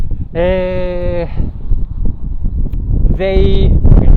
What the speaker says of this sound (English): now it's super windy